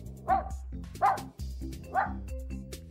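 Spark, a pet dog, gives three separate barks about a second apart, close and fairly loud over a steady low hum, with no talking.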